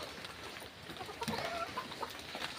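Boston Gray broodcock roosters and chickens in a small backyard poultry pen cluck and call faintly at moderate distance, several short calls scattered over a steady, noisy outdoor background.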